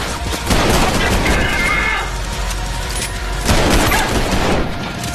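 Rapid bursts of gunfire in the video game Trepang2, loud and dense with booming impacts, sustained through most of the stretch and dipping briefly in the middle.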